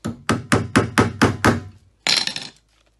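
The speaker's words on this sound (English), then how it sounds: "this starting the nails first, the screws first with the hammer is a really good option" A hammer taps screws into a 55 gallon barrel planter: six evenly spaced, sharp knocks close by, then a short pause and a brighter, rattling clink before it goes quiet.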